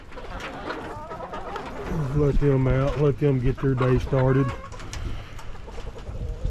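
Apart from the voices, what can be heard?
chickens clucking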